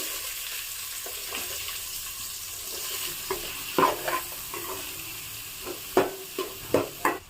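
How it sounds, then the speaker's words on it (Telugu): Onion and green chilli pieces fry in hot oil, with a soft continuous sizzle and a few sharp clicks and scrapes from stirring that grow more frequent toward the end. "ఉల్లిపాయ ముక్కల్ని ఈ విధంగా కలుపుకుంటూ వేయించుకోవాలండి, కలర్ వచ్చేంత వరకు."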